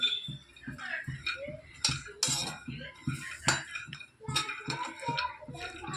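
Finger millet (ragi) and dry fruits dry-roasting in a pan on the stove, with a spoon stirring and scraping in a steady, close run of clinks and metallic taps against the pan.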